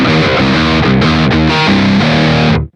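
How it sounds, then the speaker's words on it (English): An electric guitar runs through a Marshall-style amp tone in BIAS FX 2, playing loud, distorted chugging chords in a quick rhythmic pattern that cuts off abruptly at the end. "let's switch over to some sort of a Marshall sound here"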